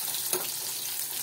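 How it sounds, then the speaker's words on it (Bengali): Pumpkin and carrot fry in a pan with a soft, even sizzle, fairly quiet and close, broken by one brief clink near the start. "কুমড়ো ভাজা বসিয়ে দিয়েছি, আর এইদিকে গাজরটা একটু ভাজা ভাজা হয়ে গেলে"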